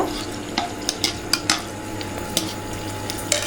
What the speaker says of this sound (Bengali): ফুচকাগুলো তেলের মধ্যে দিয়ে দিচ্ছি এই ফুচকাগুলোকে এখন ভেজে নেব